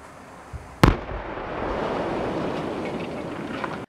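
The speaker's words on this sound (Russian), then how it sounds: "Первый день мощный взрыв даже с расстояния 100 метров тряхнул нашу видеокамеру" An explosive charge brings down an old boiler house chimney, a single sharp, powerful blast from about 100 meters away, followed by a sustained rumbling roar of collapsing debris.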